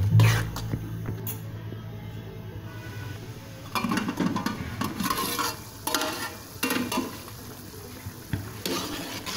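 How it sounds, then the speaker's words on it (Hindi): A spoon stirs pizza sauce in a cooking pot, giving steady soft scraping and bubbling sounds close by, with no one speaking. "अब इसको मिक्स कर दूँगी और उबलने रख दूँगी इसको"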